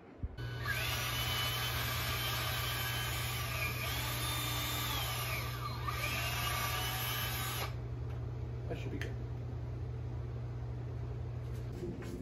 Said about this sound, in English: I took the drill, as you saw, and I drilled a hole into his head